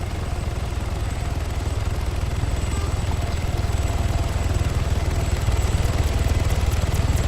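A helicopter in a role-play video game keeps up a steady, loud, close rotor chop with pulsing rhythmic beats and no pause.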